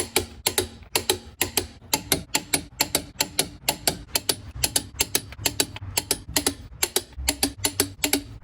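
A hand ratchet tightens lug nuts while reinstalling the wheels on a 1995 Camaro Z28, giving a crisp, regular series of loud clicks in quick bursts, close by and without speech.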